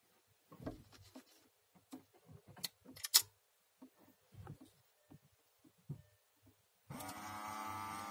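LED lens headlight lamp with a built-in cooling fan in a Skoda Octavia Tour: sparse quiet handling clicks and knocks, then the fan switches on near the end with a steady close whirring hum.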